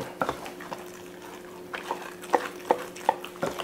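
A spoon stirs beer batter for fish and chips in a bowl, with a run of soft, close scrapes and clicks at an irregular rhythm.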